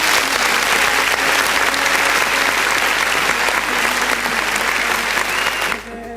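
A pageant audience at a Miss Bharat event gives a loud, sustained round of applause for a contestant, with cheering mixed into the clapping before it cuts off abruptly near the end.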